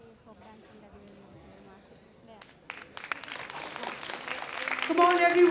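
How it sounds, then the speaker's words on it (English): Audience applause builds at a student event, starting faint under a speaking voice and swelling into dense, loud clapping by the end. "Come on everyone, a big round of applause for them."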